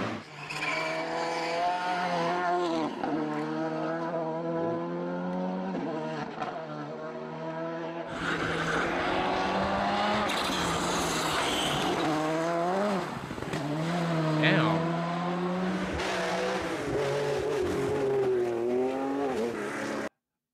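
A classic Porsche rally car roars through its gears with a strongly revving engine, and its tires squeal and skid, loud and close throughout.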